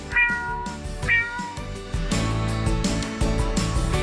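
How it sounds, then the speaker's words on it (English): A cat meows loudly and close, two drawn-out calls and then a busier stretch of meowing. "A cat says"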